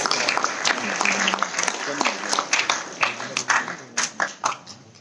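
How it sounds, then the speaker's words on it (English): A crowd applauds a chef during live judging by Marco Pierre White at a food event in Bangalore, with moderate clapping that thins into sharper individual claps toward the end, while people talk over it. "a big round of applause for our friend"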